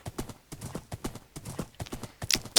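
Horse hooves in the Minecraft video game clip-clop in a steady, rapid rhythm of repeated clops, fairly close and clear, with no one talking.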